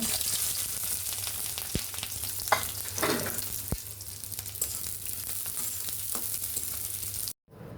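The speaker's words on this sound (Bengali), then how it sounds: "আর এখানে পেঁয়াজ মরিচ ভাজা নেব" Onions and chillies sizzle steadily in a hot pan for a fried rice dish at night, with a few sharp clinks of a utensil stirring against the pan.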